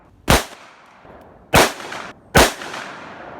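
Three loud, sharp .357 Magnum shots from a Gemini Customs Ruger revolver, each a single crack with a short ringing tail, spaced roughly a second apart outdoors.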